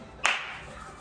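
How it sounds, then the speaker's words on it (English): A single sharp hand clap rings out up close, then the room settles into quiet with a faint trailing echo. "I love clapping like that"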